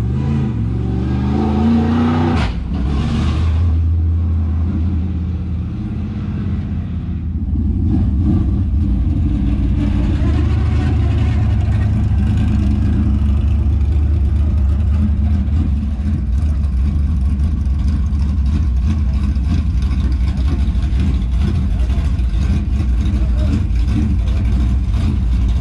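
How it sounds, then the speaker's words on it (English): A Southern Raceway race car, the HTF1, rumbles on asphalt while its tires are being cleaned off, a loud deep engine drone building after a brief quieter start and holding steady, with a voice speaking briefly. "He's gonna go clean tires off on the asphalt."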